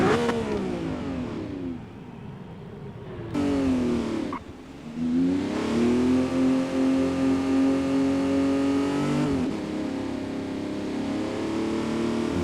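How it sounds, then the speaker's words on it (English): A Lamborghini Revuelto engine revs hard and climbs in pitch on the Nordschleife, dropping briefly between gear changes before roaring up again, loud and close. "God, it revs so quickly."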